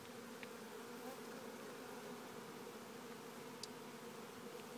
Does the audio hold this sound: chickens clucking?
no